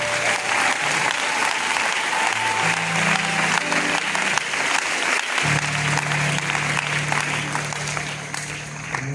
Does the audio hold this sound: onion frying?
no